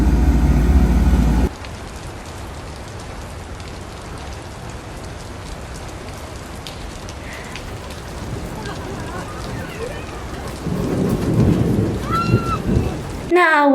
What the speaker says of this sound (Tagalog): Isang bagyo ang dumating.